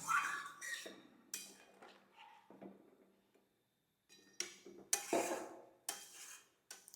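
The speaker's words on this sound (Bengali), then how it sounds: "কড়াইয়ের গায়ে লেগে গেছে, সেটা আমি পুরো নামিয়ে দিলাম।" Metal spoon scraping and knocking against a kadai while cooking cauliflower masala, a run of close, sharp scrapes and clinks with a short pause in the middle, no voices.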